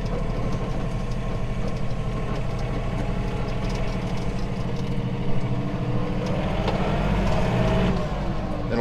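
A John Deere 3033R compact tractor engine runs steadily while the tractor makes tight turns on a small driveway. The hum is a low, even, moderately close drone, with a slight swell near the end.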